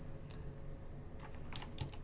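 Keys on a computer keyboard are pressed in a quiet room, a few soft clicks, then a quick cluster of taps near the end with no voices over them.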